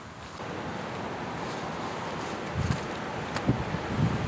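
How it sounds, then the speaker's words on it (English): Gusty wind buffets a microphone at a carp-fishing swim, a steady rumbling roar with a few louder gusts near the end, with no voices. "Sorry if it's a bit noisy, it's a bit windy now, blowing right into my face."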